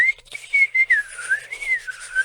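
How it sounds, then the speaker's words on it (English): A person whistles a wavering tune on an in-drawn breath, steady and close, with short gaps between phrases and no talking. "That's how I've learned how to whistle."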